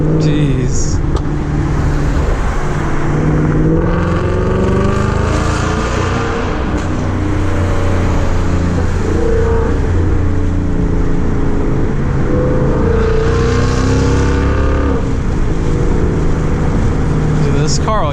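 A supercharged Ford Mustang GT in sport mode accelerates up a tunnel, its deep engine roar rising through the gears and booming off the walls, loud and close throughout, with a few voices in between.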